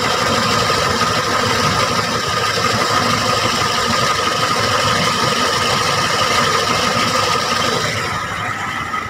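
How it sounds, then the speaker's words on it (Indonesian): A Toyota Kijang Grand Extra engine idles smoothly and steadily, a loud, even, continuous hum heard up close with no talk, easing slightly toward the end. "mesin halus dan kering"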